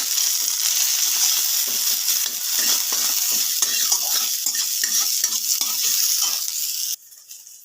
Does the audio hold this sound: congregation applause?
no